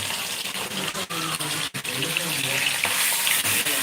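Fish fries on a stove at night, a loud, close, continuous sizzle and hiss with brief dips, sounding wet and bubbly throughout.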